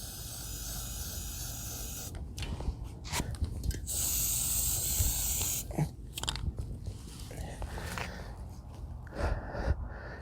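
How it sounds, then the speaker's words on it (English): An aerosol can sprays black protective coating in cold outdoor air, giving hissing bursts of varying length with a longer steady spray in the middle, along with handling noises and faint background sound. "I'm just going to spray it, get a nice old black, let it soak in"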